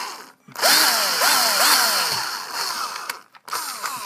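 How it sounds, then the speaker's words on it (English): Power drill boring a hole for a blackout curtain rod at home, whining in several short bursts that rise and fall in pitch, close and loud, with brief pauses between. "I'm just gonna drill another hole in there"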